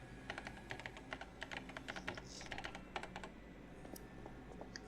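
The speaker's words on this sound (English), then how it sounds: "Use the keyboard in front of you." Rapid clacking keystrokes on a computer keyboard in the Paper Mario: The Thousand-Year Door game, irregular bursts of close, crisp taps with short pauses and no talking.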